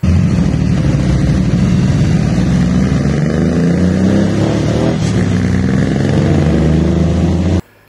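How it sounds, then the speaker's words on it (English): Radial-engined Meyers Manx beach buggy cruising at Newport Beach, its engine droning loud and close with a rising rev mid-clip before cutting off abruptly at the end. "There's nothing better than cruising down Newport Beach in a radial engine beach buggy."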